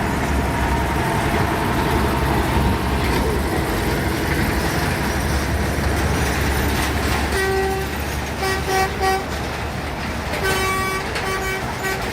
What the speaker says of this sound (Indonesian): ini perdana lokomotif membawa rangkaian melewati jalur ini